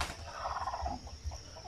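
Pet chickens clucking in a shaded backyard coop beneath a mango tree, a soft run of low, burbling fowl calls over a faint steady background hiss.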